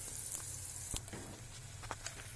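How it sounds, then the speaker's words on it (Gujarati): Dried onions sizzle in hot oil, a soft, steady frying hiss with a few brief crackles and stirring clicks, fairly faint and close, with no voices. "તેલ આવી ગયું છે, તેની અંદર સૂકા કાંદા જે આપણે કટિંગ કરીને રાખેલા છે તે ઉમેરી દઈએ."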